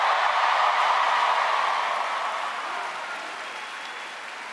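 A PaleyFest LA 2019 panel audience applauds steadily, a dense wash of clapping from a large crowd that fades gradually toward the end.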